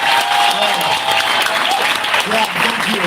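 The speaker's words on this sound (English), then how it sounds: "Yeah, let's give another round of applause for coming to Super Bowl." Loud, close applause fills a town hall meeting room, steady and dense clapping from the audience with a few voices audible underneath.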